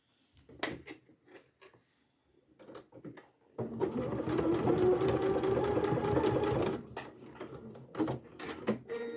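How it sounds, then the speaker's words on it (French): A sewing machine topstitches along the edge of a zipped padded cotton pouch in a steady mid-clip run of several seconds, preceded and followed by scattered clicks and fabric handling. "Et là, tu fais une surpiqûre tout le long"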